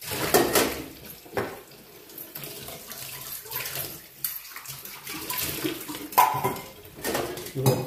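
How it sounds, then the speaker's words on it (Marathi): Metal idli steamer pot being oiled and handled, clanking and scraping metallic knocks at irregular intervals, close and fairly loud. "आणि या भांड्याला असं तेल लावून घ्यायचं व्यवस्थित."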